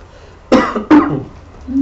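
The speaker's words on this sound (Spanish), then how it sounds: "Porque me dio tos." Two sharp, close coughs in quick succession, followed by a brief throat sound.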